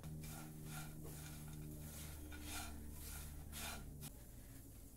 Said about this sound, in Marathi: एकसारखं हलवत राहायचंय की जेणेकरून खसखस करपणार नाही।